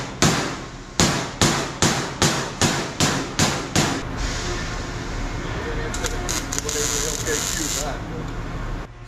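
A hammer strikes a sheet metal panel on a 50-year-old Caterpillar tractor, nine loud, evenly spaced ringing blows up close, then steady workshop noise with a brief burst of rattling clatter.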